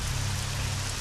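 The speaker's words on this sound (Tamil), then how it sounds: "ஒரே சத்தமா இருக்கு, மழை பெய்தாப்பாங்க." Steady, dense rainfall, a loud, even hiss of falling rain with a low rumbling undertone, with no pauses or voices.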